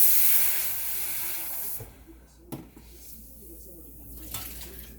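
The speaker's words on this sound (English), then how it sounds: "went ahead and ran some water in that pan" A loud steam hiss bursts up close as water is poured into a hot, scorched pan, then fades to softer sizzling and bubbling.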